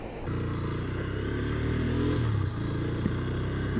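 A Runner Bolt motorcycle being ridden, its engine holding a steady drone with a slight rise in pitch, close and continuous under wind rush.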